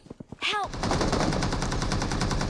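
Sustained automatic gunfire in the mobile battle royale game BGMI roars loud and near, starting after a few short taps and chirps and running as a dense, unbroken burst.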